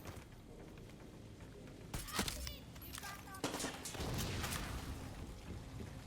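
Gunfire in the Far Cry 6 video game, with armor-piercing rifle rounds: sharp, loud bursts of shots in quick clusters over constant background game noise.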